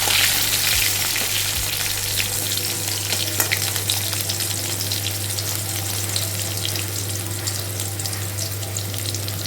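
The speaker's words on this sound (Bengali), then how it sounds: "সবজিগুলো বেশি ভাজবো না, অল্প নাড়াচাড়া করে" Vegetables sizzle steadily in hot oil seasoned with panch phoron for a Bengali summer greens curry, with soft stirring scrapes in the pan and no voices throughout.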